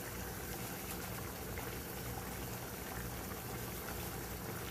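A pot of Jamaican oxtail stew, cooked for over three hours, simmering with small spinner dumplings: a steady, faint bubbling hiss that runs unbroken throughout.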